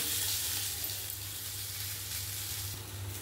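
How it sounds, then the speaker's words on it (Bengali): Cauliflower and potatoes fry in a wok, giving a steady close sizzle with a low kitchen hum beneath and no talking. "আর ফুলকপিটা একটু ভেজে নিলাম এবার আলুটাও দিয়ে দিলাম কড়াইয়ে।"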